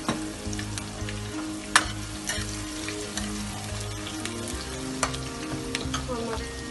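Onions sizzle steadily in a pan for a Punjabi curry, a dense frying hiss punctuated by several sharp clatters of stirring against the pan.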